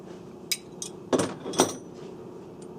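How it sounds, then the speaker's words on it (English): Wrenches on a 4000 key machine cutter nut give a few sharp metallic clinks and knocks, spaced irregularly over a faint steady hum, close and moderately loud. "hold down 1/2 inch wrench firmly, and pull down on the 3/4 inch wrench towards you"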